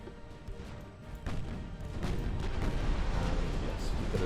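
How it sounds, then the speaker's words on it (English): A torpedo striking a warship in a naval battle game, a muffled low rumble that swells abruptly after a quiet start and holds as a heavy roaring wash of explosion noise to the end. "And yes, we get a torpedo hit there, which is good."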